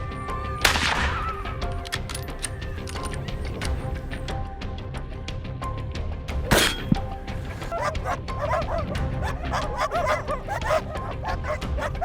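Hunting dogs bark and yip repeatedly outdoors, a mix of near and more distant barks over a constant rushing background, with a couple of sharper loud bursts standing out.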